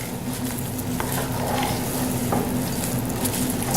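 Green onions get stirred into mashed potatoes in a pan resting on residual heat, making a continuous soft, wet mixing and scraping sound close by, with no talking.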